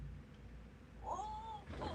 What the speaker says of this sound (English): I've got a Bubbles cat here. Let me just grab him